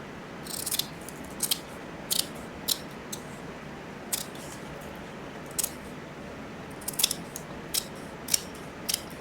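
Paper being cut with scissors for a handmade journal's binding: a series of short, crisp snips spaced irregularly, close and fairly quiet over faint background hiss, with no talking.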